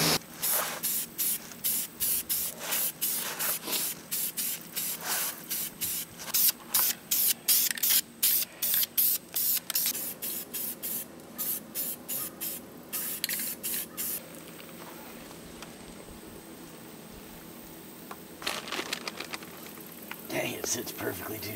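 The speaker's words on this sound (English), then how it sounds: "We're gonna go spray all the stem of the mushroom white." Bursts of aerosol spray paint coating a mushroom stem white on a garden gnome figure, close and hissy, in quick repeated pulses and longer sustained sprays with short pauses between.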